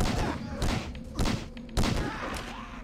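Gunshots fired in the survival horror game Obscure: four heavy, evenly spaced booming shots over a loud, busy background.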